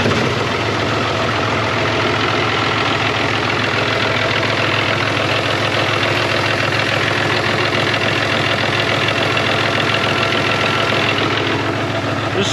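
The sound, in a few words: tractor engine started and idling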